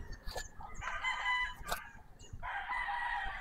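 An imported gamefowl rooster of Radio bloodline crows close and loud, two crows separated by a short pause, with a sharp clucking or flapping sound between them.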